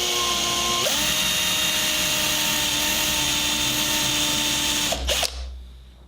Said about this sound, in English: so I don't blow the chips out from the other side when the drill goes through